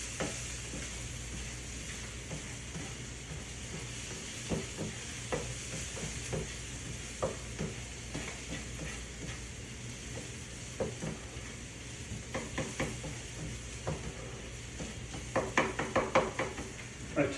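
Red snapper being stirred through salsa sauce in a hot pan, a steady close sizzle with repeated scraping and clinking of a utensil against the pan, growing busier toward the end.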